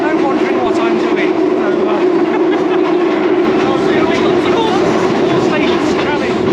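A London Underground train carriage rides along with a steady, loud rumble and rattle of wheels on track, continuous throughout, with some voices in the background.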